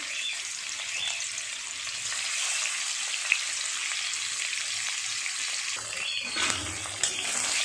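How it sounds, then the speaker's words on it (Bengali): A rohu fish head fries in hot oil with a constant crackling sizzle, plus a few faint clicks near the end. "রুই মাছের মাথাটা ভাজা করে নেব।"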